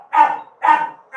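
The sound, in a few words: Australian cattle dog puppy barking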